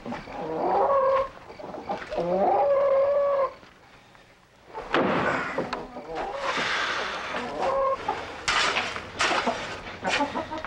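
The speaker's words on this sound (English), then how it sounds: "Got the chicken stirred up a little bit." Stirred-up chickens cluck and squawk in agitated bursts, fairly close by. Clattering noises and people talking break in among the calls.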